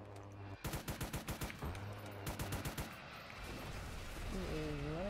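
A-10 aircraft cannon bursts in a tank video game: two rapid strings of loud, evenly spaced gunshots, followed by rumbling impacts and a rising engine whine, with no talk.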